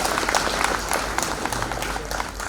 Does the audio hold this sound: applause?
yes